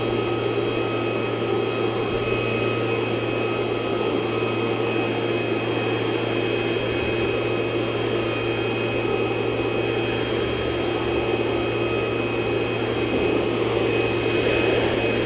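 A Ryobi 40V battery backpack leaf blower runs steadily at close range, a constant loud whooshing roar with a steady whine and hum that never lets up, with no talking over it.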